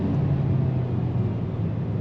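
A 2022 Kia Forte GT2 sport sedan braking hard into a left-hand bend, a steady, loud low engine and road rumble filling the cabin throughout, with no talk.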